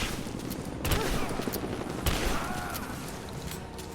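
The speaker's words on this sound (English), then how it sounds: "I know how to use a shotgun." Shotgun blasts in the video game Rise of the Tomb Raider, with a couple of sharp booming shots over a constant busy game background.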